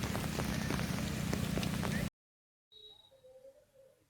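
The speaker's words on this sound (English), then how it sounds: "It's raining heavily today" Heavy rain near Pentha beach in Bhitarkanika, Odisha, roars as a dense, loud hiss for about two seconds, then cuts abruptly to near silence before faint, quieter background sounds.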